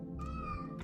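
A cat in Lone Survivor gives a single drawn-out, clear meow when petted, close and alone, lasting under a second.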